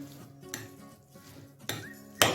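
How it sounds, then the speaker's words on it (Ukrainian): Clinking and scraping of utensils against a bowl while ingredients are tossed, with a few sharper clinks near the end; no talking. "Перемішуємо."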